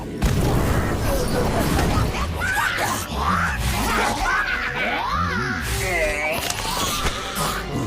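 Confringo and Incendio spells blast and crackle in the Harry Potter: Magic Awakened video game, with loud bursts and fiery crackling under shouted character voice lines that fill most of the stretch.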